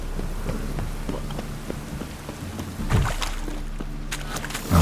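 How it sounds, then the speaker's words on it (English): Rainstorm in the video game The Witcher 3: a steady wash of falling rain with scattered drips and splashes, a low rumble underneath and a brief louder gust, with no talking. "A storm, damn it."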